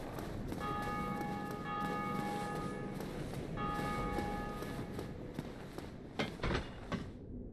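A distant bell rung by another player in Dark Souls chimes in two sustained, ringing bursts over steady ambient noise, followed by a few soft footstep-like thuds.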